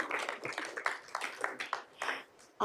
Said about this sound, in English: So let's give her a great big round of applause